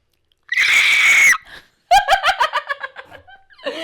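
A woman imitates a pterodactyl or dolphin scream with her voice: one long, piercing, loud shriek, a pause, then a run of choppy, squealing pulses that taper off.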